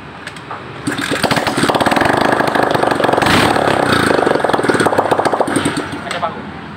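A motorcycle engine that still puffs white smoke despite new piston rings and valve seals sputters to life about a second in, then runs with a loud, rapid, uneven chug that settles slightly toward the end.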